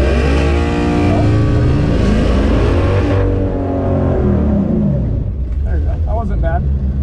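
A car accelerating as the gas pedal is pressed during a driving lesson, its engine droning loudly and rising, with an instructor's voice talking over it.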